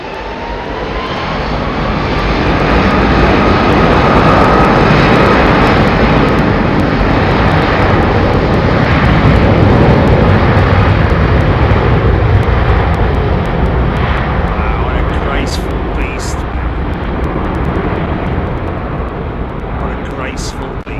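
American Airlines Boeing 777 at London Heathrow, a loud, steady jet-engine roar sustained throughout at close range, with a faint whine rising early and slight easing toward the end.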